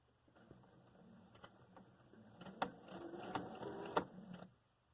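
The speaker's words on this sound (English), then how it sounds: "I'm just sewing it at the edge of the presser foot, just along there." A sewing machine stitches along the edge of a fabric face mask seam at the presser foot, a quiet mechanical whirring broken by short, faint bursts of stitching.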